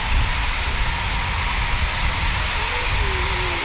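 A Eurofighter Typhoon FGR4 jet at RAF Coningsby during evening flying gives a steady, loud, broadband roar that holds without letup for the whole stretch, with no voices over it.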